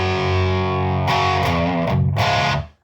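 Electric guitar played through a Peavey Supreme amp with a Boss HM2 distortion pedal, all knobs at noon, gives thick, saturated sustained chords that shift a few times and cut off near the end, loud and alone.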